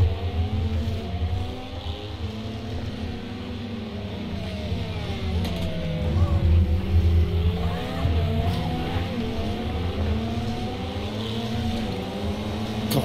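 A Le Mans race car engine in Project CARS 2 drones loudly as it brakes and downshifts, pitch stepping up and down with gear changes into a corner, steady and close throughout.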